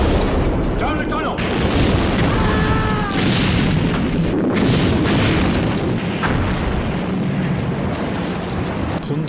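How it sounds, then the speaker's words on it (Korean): A secret villain's base self-destructing in the 1967 Bond film You Only Live Twice, with continuous loud, rumbling booms and blasts overlapping one another while voices shout over the din. "블로펠드는 벽에 숨겨둔 버튼을 눌러 기지를 자폭시킵니다"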